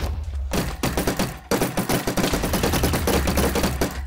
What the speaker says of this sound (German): ich muss unbedingt die Carbine nachladen